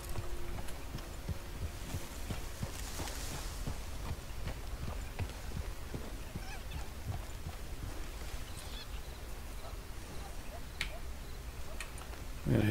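Horse hooves clip-clop steadily in the Red Dead Redemption Online video game, a fairly quiet, regular ticking gait under a continuous outdoor ambience.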